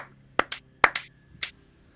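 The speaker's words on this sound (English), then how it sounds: "1, 2, 3, clap, clap, clap." Five sharp hand claps in two quick clusters, crisp and close, with silence between them.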